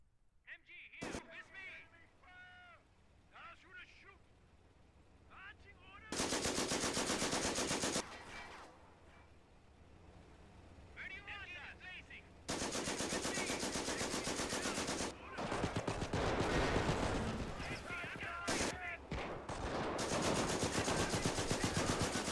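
Machine gun fire in the World War II strategy game Company of Heroes, Europe at War mod: long loud sustained bursts of rapid automatic fire with other gunshots and battle noise, while a voice talks between the bursts.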